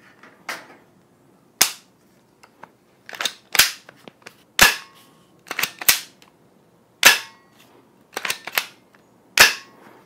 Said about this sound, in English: You could feel the kick increase instantly just from putting the new bolt in there, even dry firing it